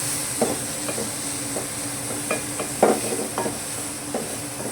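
Onions and tomatoes hiss and sizzle steadily in a hot pan while a spoon scrapes and taps the metal in irregular strokes, close and continuous without any talk.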